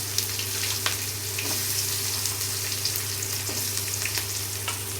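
Small onions sizzling steadily in hot oil in a pan for tomato thokku, a continuous loud frying hiss with a few faint stirring clicks.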